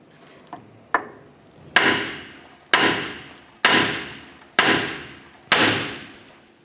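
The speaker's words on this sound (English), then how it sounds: "Now we're going to strike the knuckle here to release the ball joint and control arm." Sharp hammer blows ring out against the steel steering knuckle of a 1994-2004 Chevrolet S10 to pop loose the lower ball joint, first two light taps and then five heavy, evenly spaced metallic strikes, each decaying quickly.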